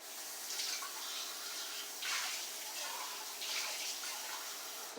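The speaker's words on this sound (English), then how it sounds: "Just kind of pour the water around the rim, because the water will help cook the meatloaf." Water pours steadily around the rim of a crockpot holding meatloaf and sauce, a continuous close splashing hiss that swells in a few brief surges.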